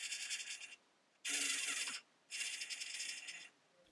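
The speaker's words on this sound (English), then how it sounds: "Now we can test the servo end to end to see if it's clearing okay" Whirring buzz of an RC car steering servo on an Austar Comanche 313mm chassis, swinging from end to end in three separate bursts with short silent gaps between them, close and clear.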